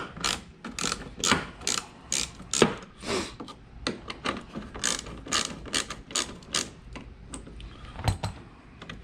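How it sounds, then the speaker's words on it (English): A ratchet fitted with a 10mm socket on an extension clicks steadily as it backs out the tail light bolts on a 2014-2016 Toyota Highlander, a quick run of sharp, close, evenly paced pawl clicks with no talking. "you'll need a ratchet and a 10mm socket"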